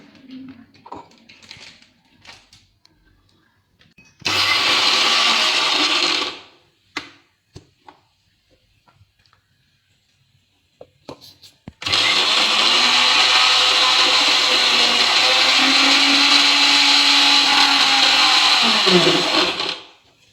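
An electric mixer grinder powders dry ingredients in two loud, steady whirring bursts, one short and one longer, separated by quieter handling clatter and faint speech.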